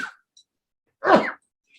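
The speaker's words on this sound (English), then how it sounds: "I'm about to sneeze." A single loud, close sneeze bursts out abruptly during a quiet Mishnah study lesson, with near silence before and after it.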